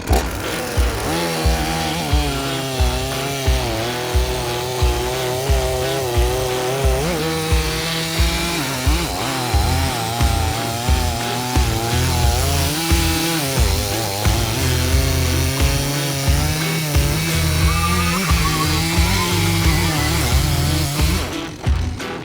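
A grinder cuts through wood in a long run of rhythmic, buzzing bursts under a constant motor drone, loud and close throughout.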